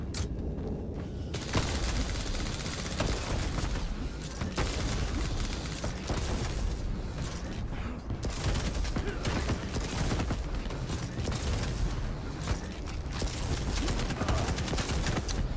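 Gunfire from a first-person shooter video game: dense, continuous bursts of rapid shots and booms filling the whole stretch, with a faint voice underneath at times.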